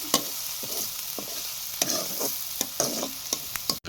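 Chillies fry in a pan with oil and salt for a bottle gourd milk curry, with a steady sizzle under repeated scraping strokes of a spoon as they are stirred, close up and moderately quiet.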